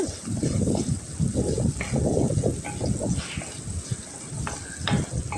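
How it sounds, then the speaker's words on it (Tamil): Onions and garlic with a little salt sautéing in a pan, a steady close sizzle with scraping stirs throughout, fairly loud and continuous. "இப்போ இதெல்லாமே நல்லா வதக்கி விட்டுருங்க."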